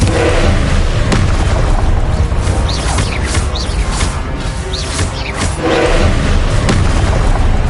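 Confringo, the blasting curse in Hogwarts Legacy, erupts in loud explosive booms within a dense, continuous wash of game combat noise and effects.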